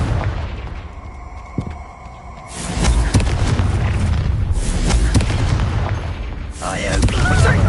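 A Confringo blasting spell in Hogwarts Legacy, a loud booming explosion that swells and rumbles on for several seconds amid crackling battle noise.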